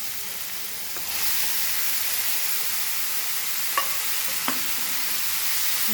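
Beef hits a pan of softened tomatoes and onions for a Goan biryani, setting off a steady, close sizzle that swells after a second, with a couple of sharp spoon clinks against the pot as it is stirred.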